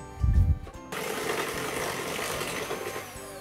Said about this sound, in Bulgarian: след което ще разбъркваме малко по-продължително с миксера, за да може хубаво да се разтвори захарта